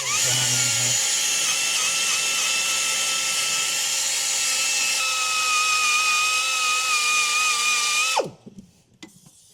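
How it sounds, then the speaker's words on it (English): An air tool with a carbide bit grinds rust off a spring seat, a loud steady high-pitched whine running for about eight seconds before cutting off abruptly into quiet clatter. "I got me a carbide bit. You can see it's on an air tool, and that's going to take all the rust off for me."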